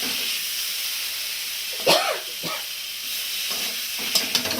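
Potatoes fry in a pan on a gas stove with a steady hiss and sizzle, broken by a couple of brief stirring scrapes.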